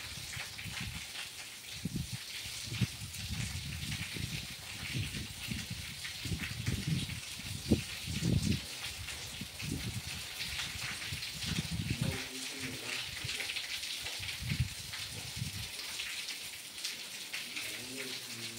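Steady hiss of rain falling, dense and continuous throughout, with low muffled voices surfacing now and then beneath it.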